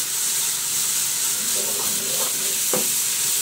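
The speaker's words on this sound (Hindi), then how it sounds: "प्याज फ्राई हो रहे हैं, ये देखें।" Steady sizzling of onions, garlic paste and red chillies frying in a hot pan, with a few soft clinks of stirring, close and continuous.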